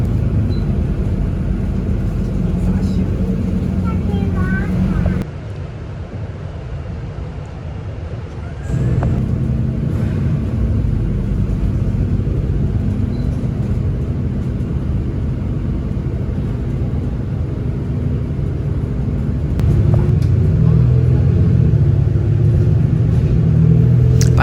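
A hop-on hop-off tour bus drives through Singapore, its engine a constant low rumble from inside the cabin that dips briefly and then swells louder near the end, with faint voices now and then.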